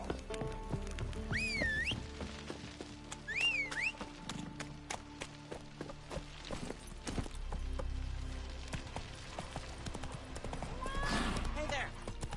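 Roach the horse's hooves clip-clop in The Witcher 3, steady light hoof taps under game music and ambient sounds, with a horse whinny cutting through mid-clip.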